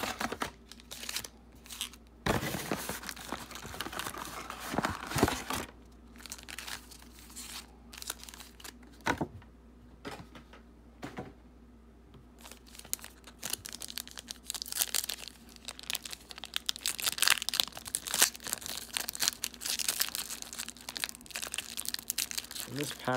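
A mega box of football trading cards is torn open, with repeated crinkling foil wrappers, ripping packs and shuffling cards up close, and someone talks over parts of it.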